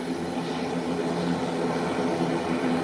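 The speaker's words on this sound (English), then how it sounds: "An American airline is rolling out, heading to the taxiway to head to the threshold of the runway." An American Airlines ATR turboprop airliner taxis toward the runway threshold, its propeller engines giving a steady, droning broadband rumble with layered low tones, moderately near and unbroken, with no voices.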